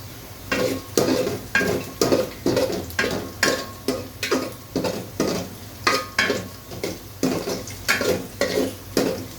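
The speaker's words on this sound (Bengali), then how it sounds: "খুব ভালো করে এটাকে এখন আমি নেড়ে নিচ্ছি। পেঁয়াজটা একটু লাল লাল হয়ে যাওয়া আগ পর্যন্ত অপেক্ষা করছি।" Sliced onions browning in a pan for a beef curry sizzle steadily while a spoon scrapes and stirs them in a brisk, regular rhythm of about two strokes per second, close and loud.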